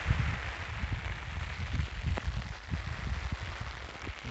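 Rain falls steadily on a mountain trail in the hills, a dense even patter with occasional heavier drops, fairly close and constant throughout.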